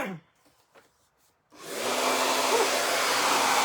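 A hair dryer switches on after a second and a half of near silence and then blows in a loud, steady, breathy roar, drying the first coat on a light wood piece.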